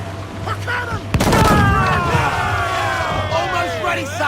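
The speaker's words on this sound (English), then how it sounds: "Cannon!" A sudden loud cannon boom erupts in a naval battle in Assassin's Creed 4 Black Flag, followed by a rumbling roar and whistling projectiles, with shouting voices underneath the battle noise.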